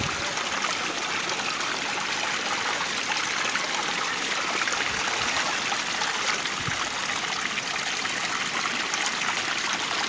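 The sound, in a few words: water flowing from a hose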